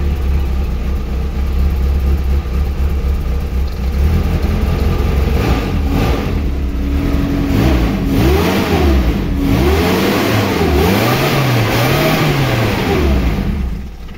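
A Suzuki Espass van with a two-line LPG conversion, running on gas, revs repeatedly from a steady idle, its engine note rising and falling in several loud, close surges with no talk.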